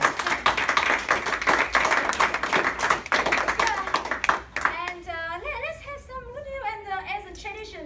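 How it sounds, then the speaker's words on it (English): Audience applause at a Bristol Central speakers' club meeting, a few seconds of scattered clapping and taps under voices, then it fades as a person begins talking. "We will have applause"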